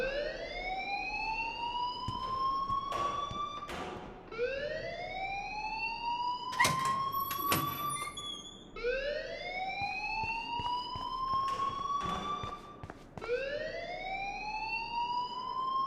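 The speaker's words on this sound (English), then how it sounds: "please turn off that alarm since that's your job" A fire alarm blares inside the video game Life is Strange, its rising siren-like wail repeating in steady sweeps every few seconds over faint background clatter, loud and close.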